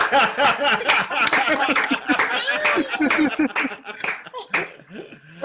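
Comedy show audience at the ApocaLips applauding a performer's last set, scattered clapping mixed with chuckles and laughter, fairly close and lively, with some voices talking through it.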